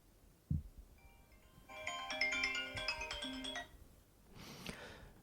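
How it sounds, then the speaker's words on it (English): An iPhone ringtone plays loudly at full volume, a bright chiming melody of stacked tones lasting about two seconds after a thump, followed by a short softer swish of noise. "make sure that you have a very loud ringtone and alert when you are testing this function"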